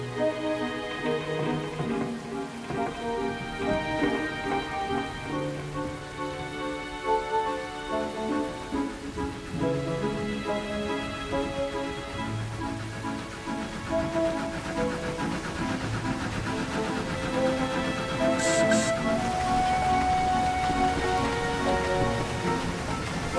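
Heavy rain pours steadily over the Firth of Tay during a stormy night, a constant dense hiss that runs throughout beneath low sustained tones, with no voices.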